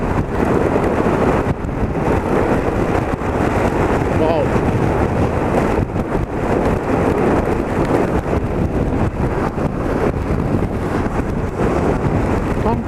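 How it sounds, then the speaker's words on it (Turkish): Strong wind roars across the microphone of a motorcycle ridden at night in a storm, a loud, continuous buffeting with gusty surges, while a rider talks underneath. "Rüzgar çok alakasız bir yerden almaya başladım."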